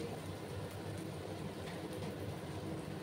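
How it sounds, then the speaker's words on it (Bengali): Pabda fish sizzling in hot oil with onions browning alongside, a dense, steady hiss and crackle of frying that runs unbroken and close throughout, with no voices. "লাল করে একটু আমি ভেজে নিচ্ছি"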